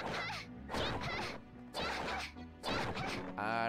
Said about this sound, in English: And I just go and start smashing all the barrels with no legal ramifications.